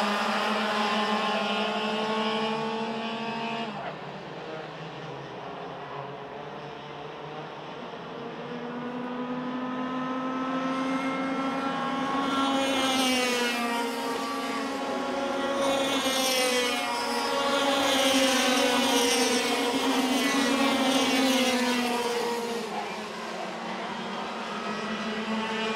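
X30 racing karts bunched in a five-kart pack late in a race at the SL Mizunami series, their engines giving a loud, continuous buzzing whine that rises and falls in pitch as the karts accelerate and brake past.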